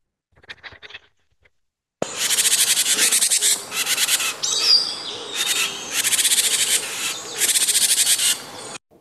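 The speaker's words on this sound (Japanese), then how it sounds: "その妙な声を出している親鳥の下に、実はこの青大将が迫っていたんです" A parent bird gives a strange, harsh alarm call at its nest box as a Japanese rat snake closes in: loud, rasping, rapidly pulsed bursts in repeated bouts, after faint chirps and a brief pause.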